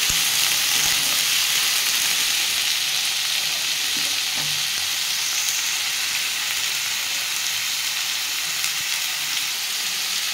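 Beans, radish, potato and tomato fry in a pan with a loud, constant hiss of sizzling oil, an unbroken wash of crackle close to the listener with no voices.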